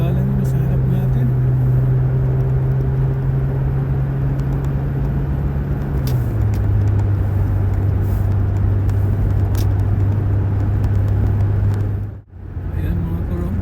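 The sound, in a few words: car driving on road, overtaking slower traffic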